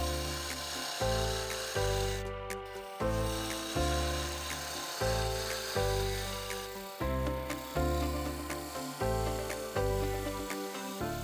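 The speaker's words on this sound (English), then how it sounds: "We'll do a little bit more rounding with the roughing gouge just to make it thinner where the handle will be" Wood lathe spinning a blank while a roughing gouge rounds and thins the handle section: repeated rough, rasping cutting strokes over a steady low drone, loud and close with no talking.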